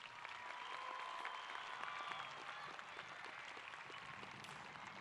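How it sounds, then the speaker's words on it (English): Sustained, even applause from a large crowd fills a high school graduation ceremony, honoring performing arts students in a steady roar of clapping that lasts throughout. "Let's give them another round of applause."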